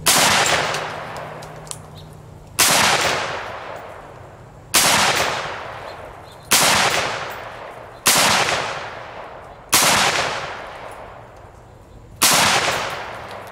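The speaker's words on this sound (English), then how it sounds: "do a mag dump of" Rifle fire with M193 rounds aimed at homemade hardware-store body armor: seven loud, sharp shots spaced a second or two apart, each with a long echoing decay that fades before the next report.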